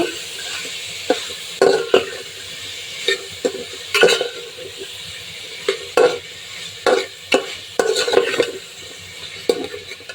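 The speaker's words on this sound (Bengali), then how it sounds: "এখন সবগুলো একসাথে একটু মিশিয়ে ভালোভাবে ভেজে নিয়ে নেব" Vegetables with turmeric and salt being stir-fried in a pot for khichuri, a soft sizzle under repeated sharp scrapes and clinks of a spoon against the metal, coming in irregular bursts about every second.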